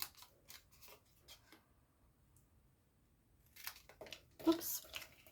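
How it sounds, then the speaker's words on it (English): Paper snips make a few quiet, crisp cuts up the score lines of a paper treat pouch in a craft setting, then pause before a louder burst of cutting and paper handling; a soft voice is faintly present. "So grab your snips and just cut up."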